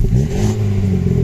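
A used car's engine is revved a couple of times during an inspection, a loud, close, throaty burst with a low exhaust drone rising briefly, heard alone without talk.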